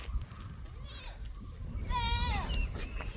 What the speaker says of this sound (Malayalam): ആട് കുഞ്ഞുങ്ങൾ